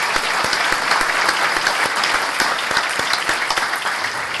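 Audience at a Baldwin Park city council meeting clapping, a loud, dense burst of steady applause from a roomful of people, filling the space without speech over it.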